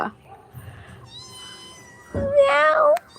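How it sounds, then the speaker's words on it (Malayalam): Kittens of a white mother cat mew with thin, high, wavering cries, one long loud meow standing out near the end, with a person's voice heard faintly between the calls. "ഇന്നലെ അവരെ പേടിച്ചിരുന്ന പൂച്ചക്കുട്ടികളാണ് ഇന്ന് കണ്ട"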